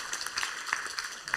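Scattered, light applause from an audience: sparse hand claps patter unevenly at a moderate distance.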